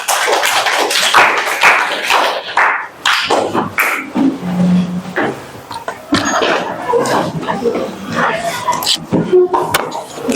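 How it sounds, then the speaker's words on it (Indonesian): A classroom applauds after a group presentation, with scattered claps that turn into bursty, uneven clapping, mixed with voices and some laughter throughout. "Beri aplaus semua"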